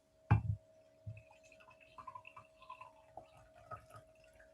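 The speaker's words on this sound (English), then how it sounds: "That's just me pouring more coffee." Coffee being poured into a cup sounds close to a desk microphone, starting with a clink and a splash and followed by a soft, trickling fill over a steady electrical hum.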